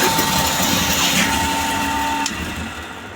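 A feed grinder mill runs with a steady whirring hum and a faint high whine, loud and continuous, then slightly eases off near the end.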